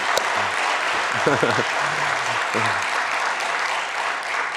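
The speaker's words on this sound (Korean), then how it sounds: "한번 박수 한번 크게 드리겠습니다" A congregation claps during a Sunday church service, a dense steady wash of applause lasting throughout, with a few brief voices calling out over it.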